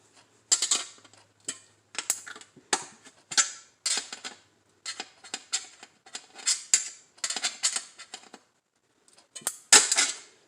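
Scissors snipping the edges of thin Dollar Tree metal, a long run of crisp, close metallic cuts in uneven clusters with brief pauses between them, and no talking.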